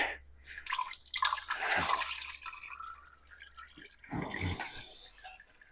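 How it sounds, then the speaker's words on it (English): Oil drips and splatters from a Mr. Gasket oil filter adapter, two clustered bursts of wet dripping and trickling separated by a brief pause, close and fairly quiet with no voices. "we're already seeing where that's going to drip"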